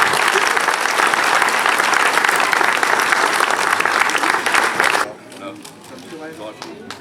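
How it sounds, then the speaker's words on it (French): An audience at a French mayor's New Year reception applauds a very active local association volunteer, dense sustained clapping from a large crowd for about five seconds, then abruptly cutting to quieter room sound. "je pense qu'on peut l'applaudir"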